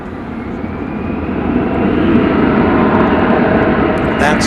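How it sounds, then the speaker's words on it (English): A jet airliner, flight 1430 to San Francisco, taking off at DFW Airport at night, a loud rising engine roar that swells and holds, with a voice talking over it. "the plane taking off there"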